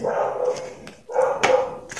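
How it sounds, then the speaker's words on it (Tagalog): A dog barks in two short bursts, moderately close, with a brief pause between them and no one speaking. "Pasensya na yung tahol ng aso."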